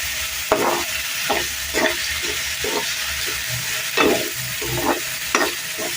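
Potatoes fry with onion in a pan while being stirred, a continuous sizzle broken by repeated scraping strokes of the spoon at an irregular rhythm, close and clear with no talking.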